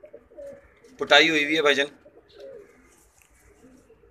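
A female Masak breed pigeon gives a short burst of throaty cooing, loud and close, while people talk intermittently around it.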